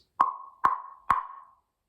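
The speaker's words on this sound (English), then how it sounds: "So I have wooden instruments, and they normally make a shorter sound like this" A wood block is struck three times at an even pace, each hit short and hollow with a quick fading ring.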